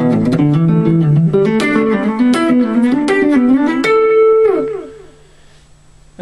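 An electric guitar plays a slow pentatonic lick, a string of distinct picked notes moving up and down that ends on a held note and fades into a ringing tail, clean and close with no talking.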